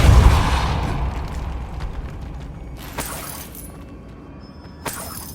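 Depulso spell cast in Hogwarts Legacy: a loud burst at the start that fades into a rumbling decay, followed by a few sharp shimmering effect hits a couple of seconds apart.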